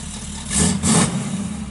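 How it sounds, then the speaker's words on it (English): 1970 Chevrolet Camaro Z28 V8 with its factory transverse muffler and dual exhausts, idling with a deep burble and two quick blips of the throttle that swell loud and close. "Sounds real good. It's got the factory transverse muffler in it with the duals out the back."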